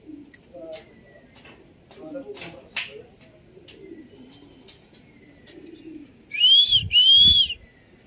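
A racing pigeon coos softly a few times amid quiet background chatter and faint bird chirps, followed by two louder, close whistle-like calls near the end.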